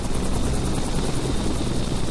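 Helicopter in the Microsoft FSX flight simulator on a volcano mission, a steady loud rotor drone with rapid regular blade chop, continuous and alone.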